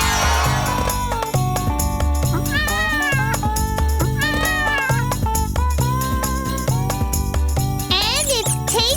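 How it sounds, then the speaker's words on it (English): A cartoon cat meows several times in a children's farm animal song, bright repeated mews over a bouncy, loud musical backing with jingling accents. "Look! It's a cat!"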